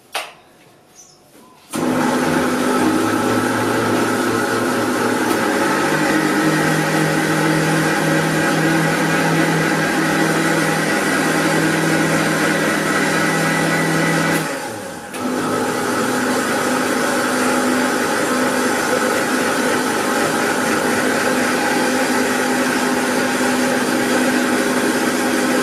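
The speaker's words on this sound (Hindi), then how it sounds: "तो इसको हम अभी ब्लेंड करेंगे अच्छे तरीके से।" A kitchen blender starts with a sudden jump and whirs loud and steady for about twenty seconds while blending a Horlicks protein drink, dipping briefly midway before carrying on at full speed.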